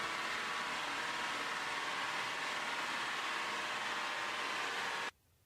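A 3.2 litre five-cylinder engine running on a dyno, a dense steady roar with a hissing, noisy character held at constant level, then cutting off abruptly near the end.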